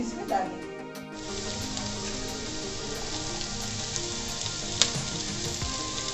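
Vegetables frying in hot oil in a kadhai give off a steady, close sizzle throughout, with a brief sharper crackle partway through.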